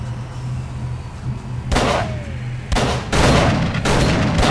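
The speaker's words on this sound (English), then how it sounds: "What the hell are you doing shooting me?" Gunshots in the video game Call of Cthulhu: a low hum gives way to four loud, close blasts in quick irregular succession, each with a rumbling decay.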